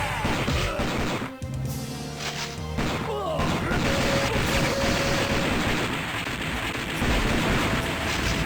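Heavy machine gun fire in a PlayStation 2 video game: a loud, dense, sustained rattle of shots and crashing impacts that runs almost unbroken, with a brief dip near the start and a voice speaking over it.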